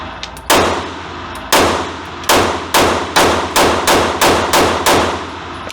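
Springfield Hellcat Pro Comp pistol fired outdoors: a loud close first shot, a pause, then a series of sharp reports coming faster toward the end, each with a ringing tail, and no talking.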